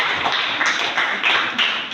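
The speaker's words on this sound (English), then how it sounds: "Can we have a round of applause?" Applause from an audience of students at a school visit event commemorating a birthday, a steady, dense patter of clapping filling the whole stretch, fairly close and loud.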